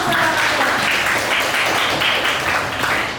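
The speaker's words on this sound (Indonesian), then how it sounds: "Tepuk tangan dulu dong" Classroom of students clapping for a classmate after her singing, a brief dense patter of hands at moderate distance, continuous throughout with no talk over it.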